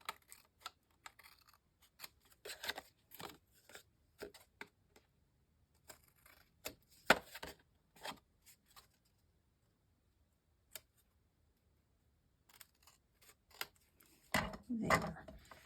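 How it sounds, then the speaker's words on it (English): Paper scissors snip away excess paper from the edge of a handmade 5x7 bunny card, short crisp cuts in irregular clusters, close but quiet, with a brief rustle of handling near the end. "Now I will trim off any of the extra."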